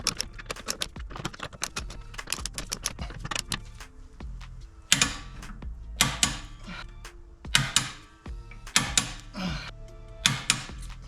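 Snap-on torque wrench tightening the drive axle nut on a 1993–98 Mark IV Toyota Supra to 101 foot-pounds: a run of sharp ratcheting clicks, bursts of quick metallic ticks with short pauses, close and fairly quiet.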